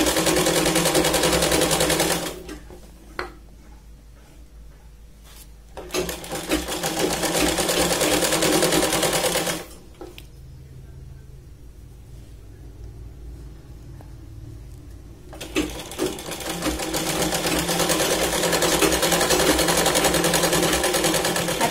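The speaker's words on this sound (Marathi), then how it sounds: "सरळ इथे शिलाई लावायची आहे" A sewing machine stitches a straight seam on a Punjabi dress in loud, steady running bursts, with two brief pauses where the motor drops to a low hum before restarting.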